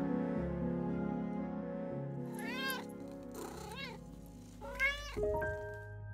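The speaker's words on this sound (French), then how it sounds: "il y a mon chat qui est en train d'essayer de rentrer" A house cat meows insistently while trying to get into the room, a few separate rising cries close to the microphone over a steady low background hum.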